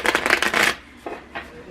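Mopping and cleaning in a hallway with an old, dirty mop: a sustained rough swishing scrub, then two shorter swipes, fairly close, with no voices.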